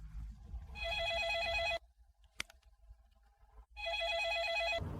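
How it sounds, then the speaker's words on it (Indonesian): A telephone rings in two long electronic trilling bursts, separated by a quiet gap that holds a single sharp click, clear and near with no talking. "teleponmu terus berdering"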